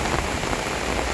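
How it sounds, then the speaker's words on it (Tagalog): Heavy rain pours steadily onto a rooftop in Pampanga on a wet afternoon, a dense, continuous hiss of drops drumming close and loud with no pauses. "Lakas ng ulan."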